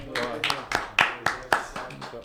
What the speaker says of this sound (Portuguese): Por favor, salve de palmas.